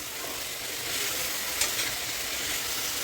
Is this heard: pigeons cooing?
no